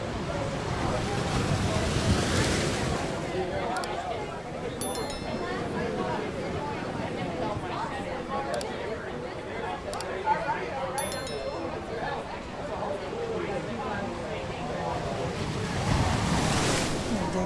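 Sea waves wash continuously onto Kemer beach in Antalya, Turkey, with wind buffeting the microphone and distant beach chatter in the background.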